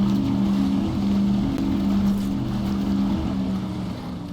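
Guided Missile Speedster warship in a video game cruising steadily, a constant low engine hum over washing water and wind noise that fades slightly at the end.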